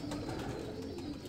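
A pigeon coos softly in low, rounded repeated notes, faint and close, with no talk over it.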